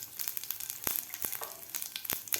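Mustard seeds, cumin and asafoetida hit hot oil in a pan for a vegetable curry, giving a close, steady sizzle broken by sharp crackling pops scattered throughout.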